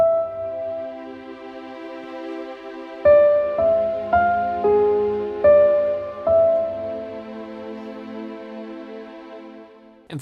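Piano playing the background part of a composition: a held tone at first, then a run of distinct struck notes, each ringing out and decaying, with no talking.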